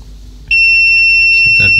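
A multimeter's continuity tester gives a steady, loud, high-pitched beep testing a fuse on an MSI AMD HD 7970 graphics card, starting abruptly and holding continuously, with a brief rustle of handling near the end.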